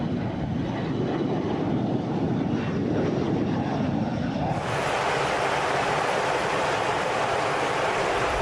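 A KC-135R jet tanker's larger, higher-thrust engines give a continuous, loud, broadband roar that swells brighter and more intense partway through and holds steady.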